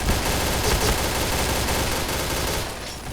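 Rapid, dense automatic gunfire in the shooting game Point Blank, a continuous loud stream of overlapping shots that thins out at the very end.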